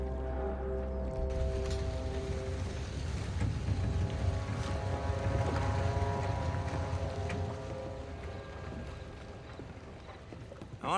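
A boat's low engine hum drones steadily with sustained tonal layers, a slight watery wash and occasional knocks, fading a little toward the end.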